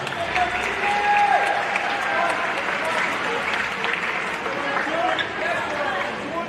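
Spectators at a Quitman versus Mineola high school basketball game keep applauding the seniors, a thick continuous roar of clapping with a brief whistle-like tone rising above it early on.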